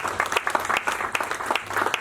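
A church congregation applauds during a French-language worship service, steady dense clapping from a crowd in a large room, moderately loud and continuous.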